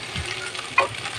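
Greens and potatoes fry in a pan, a steady close sizzle with a few sharp stirring clinks near the end.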